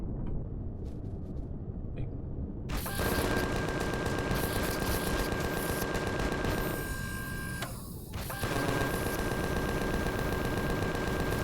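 Ship-mounted weapons firing in Empyrion Galactic Survival, a loud rapid stream of shots that starts abruptly after a quiet moment, breaks off briefly, then resumes just as dense and steady.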